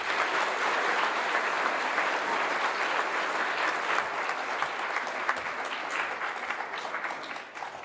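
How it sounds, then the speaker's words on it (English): A school assembly audience applauds award winners at a Founder's Day gathering: steady, dense clapping from a large crowd that holds loud throughout and tapers slightly at the end. "So big round of applause for everybody."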